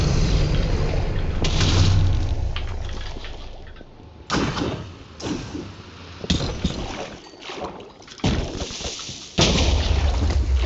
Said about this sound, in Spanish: Tened cuidado que la explosión de los Creepers te mueve un poco a loco